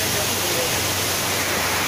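A waterfall in a canyon at Capitólio, Minas Gerais, roars as a steady, loud wash of broadband water noise close by, with no pauses.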